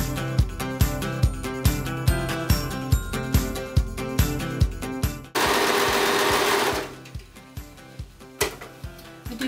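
Overlocker (serger) sewing machine stitching a cardigan in a home sewing room, loud and close, with rapid rhythmic bursts of running interrupted by a sustained whirring run, then more short stop-start bursts.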